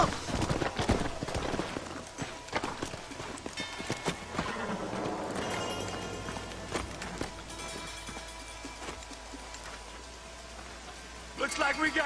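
Horse hooves clip-clop in an uneven trot before slowing and fading, with rustling movement and occasional talk alongside, in the video game Red Dead Redemption.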